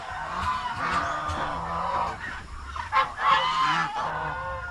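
Several geese honk loudly and repeatedly at close range on a small farm, with harsh overlapping calls and some clucking fowl mixed in.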